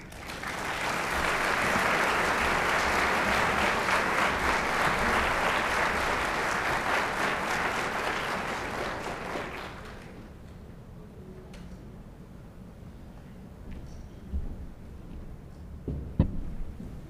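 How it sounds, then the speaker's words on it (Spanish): An audience claps steadily for about ten seconds to welcome a speaker at a Gnostic anthropology talk in Mexico, then the applause fades into a quiet room with a few faint knocks and shuffles. "el señor Alfonso Paulín, a quien recibimos cordialmente con aplausos"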